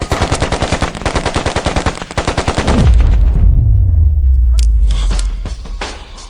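Gunfire in a staged drama scene: a rapid, loud burst of automatic shots for nearly three seconds, then a deep rumbling boom that slowly fades, with a few scattered sharp cracks near the end.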